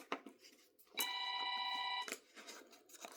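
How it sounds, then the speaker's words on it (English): A telephone rings once in a read-aloud of the children's picture book Mooseltoe, a bright steady electronic tone of about a second between soft page and room noises, with no voices. "Phone's ringing."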